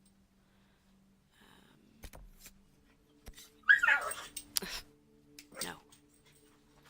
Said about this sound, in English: I've got a dog being annoying.